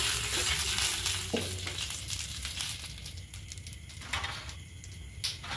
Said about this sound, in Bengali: দিয়ে একটু খুব ভালো করে এবার চাড়িয়ে নেব তেলটা